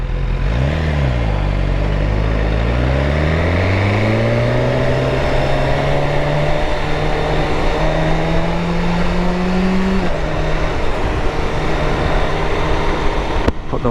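A motorcycle engine revs up steadily and holds a sustained, loud drone around 4,000 RPM under constant road and wind roar, with a slight dip near the end and no talk.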